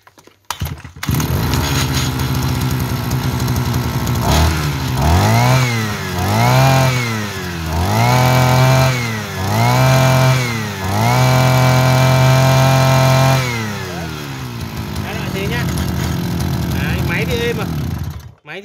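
A used Japanese grass cutter's small engine runs close and loud. It is revved up and down about five times in rising and falling surges, then settles back to a steady idle.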